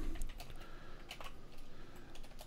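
Typing on a computer keyboard: a fast, steady run of close, light key clicks over a faint room hiss, with no voice.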